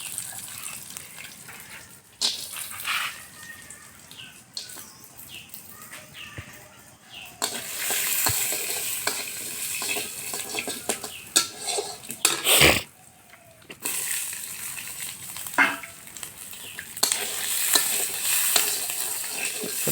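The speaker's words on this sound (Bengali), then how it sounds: "এখন একটু বড়া ভাজবো আর একটু বাদাম ভাজবো" Peanuts frying in a pan, a continuous close sizzle with bursts of stirring and clatter, rising louder partway through, briefly interrupted by a sharp knock and a cough, with little talk.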